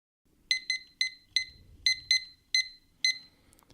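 Audio sync app's button sound, a series of eight short bright electronic beeps in an uneven pattern, clean and close over near silence.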